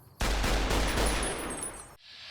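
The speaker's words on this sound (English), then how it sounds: "I can't hear him over the sound of gunfire" Gunfire in the video game Fallout: New Vegas erupts as a sudden loud burst of rapid shots lasting nearly two seconds, then cuts abruptly to quiet.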